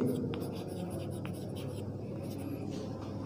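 Chalk or a marker writes on a board during a chemistry lesson, making faint scratchy strokes at a moderate distance under a continuous low room hum, with no clear talk.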